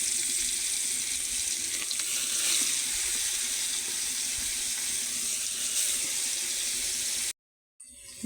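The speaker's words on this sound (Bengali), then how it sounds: "প্রথমত এখন তৈল গরম হয়েছে, মাছটা দিয়ে দিই।" Taki fish drops into hot oil in a pan on a clay stove, producing a loud, continuous hissing sizzle that holds steady before cutting out abruptly near the end.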